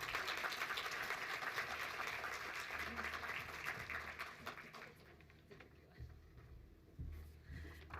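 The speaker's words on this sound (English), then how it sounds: "please give me a round of applause" Audience applause at a conference breakfast plenary, a broad wash of clapping that starts full and gradually thins and fades over several seconds, with some voices in the room.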